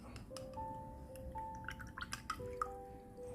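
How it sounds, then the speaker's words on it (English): A watercolour paintbrush swished in a glass of water produces close, soft clinks, drips and small splashes in irregular bursts over faint background tones, with no talking. "So I'll wash my brush in the water."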